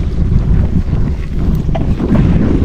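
Low, steady rumble from a motorized trawler boat passing along a canal in a river char area, loud and close under heavy wind buffeting, with no talk.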